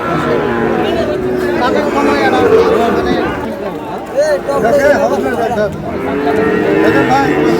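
Sahiwal cattle, including bull calves, moo loudly at a Cumilla farm, the drawn-out calls overlapping with a crowd of people chattering nearby throughout.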